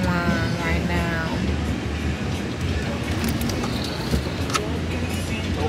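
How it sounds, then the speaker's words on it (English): Inside a car on the road to Old San Juan, Puerto Rico, a steady low road and engine rumble continues throughout, with faint voices in the cabin. "we are in the car going to Old San Juan right now"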